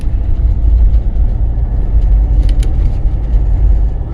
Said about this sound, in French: La circulation est calme ce matin, ça va?